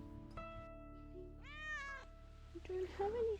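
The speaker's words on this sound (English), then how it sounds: "As we were walking along the beach, a cat found us. A super friendly cat." A friendly cat on a beach in Fiji meows twice, close and clear, with a brief faint voice alongside and steady sea and wind noise in the background.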